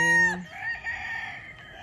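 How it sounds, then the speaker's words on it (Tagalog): A backyard gamefowl rooster gives a sharp harmonic cry that breaks off abruptly, followed by a softer, wavering drawn-out call at moderate distance, with no talking. "Ayan po ay ating mga manok na ating pinakikita dito sa ating backyard."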